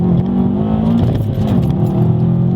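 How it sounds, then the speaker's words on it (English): A 2013 Subaru WRX with all-wheel drive launches hard on a wet road. The engine roars loud and close as it accelerates without a break. "So, traction control off, foot down, floor it,"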